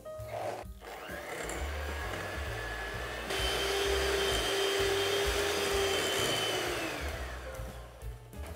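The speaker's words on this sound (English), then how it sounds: "And now I'm going to mix this for a few minutes till it's nice and soft and fluffy." Electric hand mixer whirring steadily as it creams butter and sugar for red velvet cake batter, a loud continuous motor drone that rises in pitch partway through and holds before slowing near the end.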